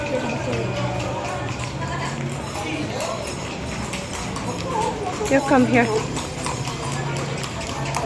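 Horses' hooves clip-clop on the cobbled Calle Crisologo in Vigan, Ilocos Sur, as a steady clatter at moderate distance, with a sharper run of hoofbeats near the middle, beneath people talking nearby.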